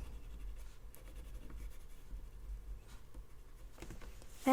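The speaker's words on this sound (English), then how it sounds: "Whipping that pencil back and forth." A colored pencil rubs back and forth on paper while coloring in a mermaid drawing, making steady, close, continuous scratchy strokes with no talking.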